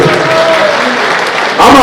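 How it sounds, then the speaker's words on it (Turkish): Friends in a hall at a federation election event applaud, a continuous clatter of clapping with voices over it, rising louder at the very end. "Selamoğlu'nun salonundaki arkadaşlarımdan bir alkış istirham ediyorum"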